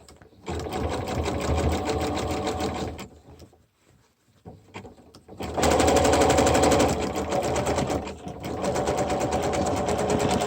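Sewing machine stitching a fabric face mask seam, running in loud continuous bursts with a brief pause near the middle as the fabric is repositioned over a thick seam hump.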